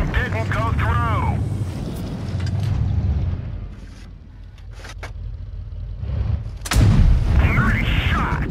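A tank cannon fires in World of Tanks Blitz, a loud broadband boom at the start and another heavy blast near the seven-second mark, with wind-like rumble and engine noise filling the gaps.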